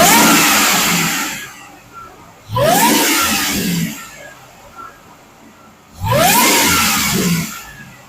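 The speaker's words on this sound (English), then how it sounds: "I'm going to fire it up and see if we can get a good idea of what that supercharger whine sounds like" A supercharged 2003 Ford SVT Lightning pickup truck revs hard three times, each burst carrying a rising supercharger whine before it falls back to a low idle in between.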